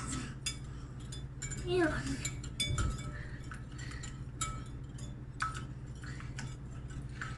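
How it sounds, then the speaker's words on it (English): Eggs and butter whisked in a bowl, the whisk ticking and clinking against the sides in quick, steady strokes, close but moderately soft, with a brief spoken word in between. "Keep whisking away while you do this so that the fat in the eggs and the fat in the butter can emulsify."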